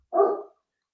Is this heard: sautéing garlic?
no